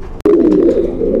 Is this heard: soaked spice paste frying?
no